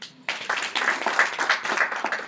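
An audience at a Kenya IGF closing session breaks into applause, a dense burst of clapping that starts abruptly and carries on steadily for about two seconds.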